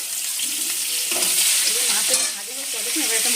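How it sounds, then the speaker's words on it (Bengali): Katla fish pieces sizzle and crackle steadily as they fry in oil in a pan, with occasional scraping and stirring sounds on top, close and continuous. "আমি হালকা ধরে ভেজে নিচ্ছি মাছ"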